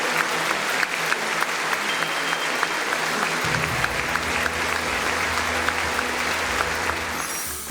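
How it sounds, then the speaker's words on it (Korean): Sustained, loud applause fills a large room at a state dinner as guests honor a visitor, a dense and even wash of clapping with a low rumble joining partway through. "그것은 위버의 딸에게 하는 박수이기도 하지만 또 미국을 대표해서 그분에게 보내는 박수다."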